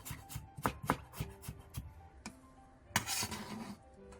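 A knife slices carrots thinly on a cutting board, quick irregular chopping taps close up, with a brief pause and then a fresh burst of cuts and some board clatter.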